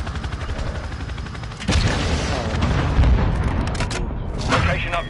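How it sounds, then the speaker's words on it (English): Cruise missile strikes in the video game Warzone 2: a sudden heavy boom followed by rolling, rumbling blasts and crackling debris. Brief game voice chatter runs underneath. "Friendly cruise missile inbound."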